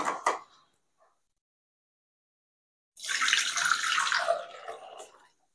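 Mint lemon juice strained through a filter: a brief splash and clatter, a quiet gap, then about two seconds of steady close pouring and trickling that tapers off.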